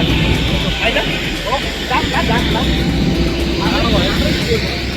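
A loud, steady airplane engine roar from a plane at Madrid, Spain fills the background while people talk nearby.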